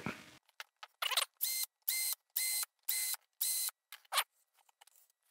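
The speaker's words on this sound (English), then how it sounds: "Go ahead and remove these, these mounting screws real quick." Mounting screws come out of an isolated ground PDU in about six short, evenly spaced whirring bursts from a powered driver, close and crisp, with brief quiet gaps and small clicks between them.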